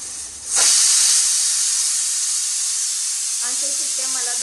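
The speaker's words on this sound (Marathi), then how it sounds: "आता पहिली शिट्टी होते." A kitchen pressure cooker cooking dal lets out its first whistle. Steam bursts out with a sudden, loud, sustained hiss that holds steady for several seconds. A voice briefly enters near the end.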